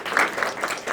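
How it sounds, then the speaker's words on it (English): Audience applause for debate teams at a finals event, a brief burst of dense clapping from a crowd, moderately loud. "We'll clap for each of them"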